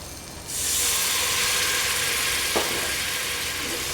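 Water poured into a hot oil tempering for pumpkin curry bursts into a loud, steady sizzling hiss of steam that starts suddenly and keeps going without letting up.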